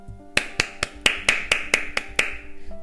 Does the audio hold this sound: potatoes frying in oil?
no